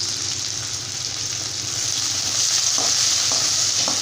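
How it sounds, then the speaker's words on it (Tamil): Onion and curry leaves sautéing in hot oil with popped mustard seeds in a kadai, giving a steady, close sizzle and frying hiss with occasional light stirring clinks, no talking. "இப்போ இதை வந்து நல்லா எண்ணெயில் வதக்கி விடுங்க."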